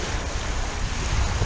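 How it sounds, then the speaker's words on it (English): Ocean surf washing in at a beach on a rainy day, a steady, loud broadband rush of breaking water mixed with wind buffeting the microphone, continuous and unbroken throughout. "Look at that water coming in."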